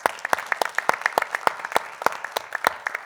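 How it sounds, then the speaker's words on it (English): A small audience at a public Board of Education meeting gives a round of applause: a few dozen sharp, distinct claps in a loose, uneven rhythm, fairly close and clear, with no talk over them. "if we could please give her an air round of applause"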